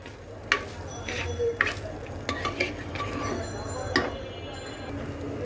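Rice mixed with ginger is stirred and fried in a pan for a vegetable pulao: a soft sizzle under a series of sharp spatula clicks and scrapes at uneven intervals, close by.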